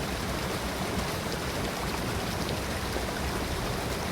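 A river stream flows steadily and close by, a dense continuous rush of water with no pauses or other sounds.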